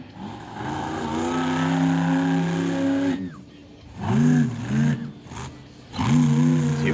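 A monster truck engine roars loudly at an Edmonton, Alberta monster truck event, revving hard for several seconds, dropping off, then surging again in repeated throttle blasts near the microphone.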